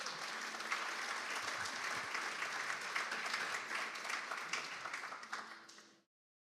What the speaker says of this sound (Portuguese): Aplauda o Senhor pela vida da Duda